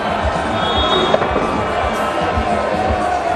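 A cricket crowd roars for a six during a Pakistan versus Zimbabwe one-day international, a loud, continuous cheer with horns and thudding beats running under it, held at a steady level.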